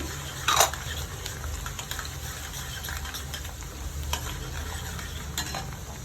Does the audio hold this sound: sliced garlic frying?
yes